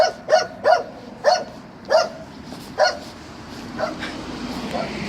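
A dog barks six times in a fairly regular series, moderately close, then fainter yelps trail off over a background of outdoor street noise.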